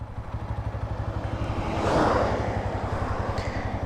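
125cc sports motorcycle riding off, its single-cylinder engine giving a close, pulsing exhaust beat that swells briefly with a passing whoosh of wind before returning to a steady throb.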